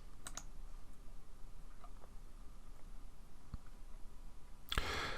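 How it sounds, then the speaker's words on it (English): A computer mouse clicks a few times while settings are saved, sharp isolated taps over a quiet, steady background hiss, with no one speaking. "And then I'm going to click on Save."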